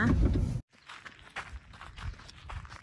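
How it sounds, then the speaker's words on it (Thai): Footsteps crunch up a rocky hiking trail in Arches National Park, Utah, a loud handling bump first, then soft irregular steps close by with faint voices in the background. "ตอนนี้เรากำลังเดินขึ้นไปบนเขายอดเขานะคะ"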